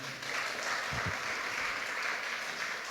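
A church congregation clapping during a Sunday worship service, a steady wash of applause from a crowd filling the whole three seconds at an even level.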